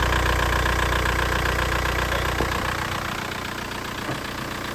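A Škoda 1.9 SDI diesel engine idles steadily up close with a dense, even rumble and faint knocking clatter that eases slightly partway through, with no talking.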